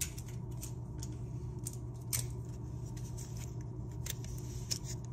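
Adhesive tape pulled off a roll and pressed onto paper while making an explosion book, a close, steady rasping and crackling with a few sharper peeling bursts, heard alone without talk.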